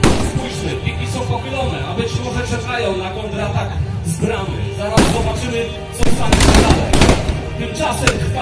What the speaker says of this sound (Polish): Kolejno następujące po sobie wystrzały z działu oblężniczych.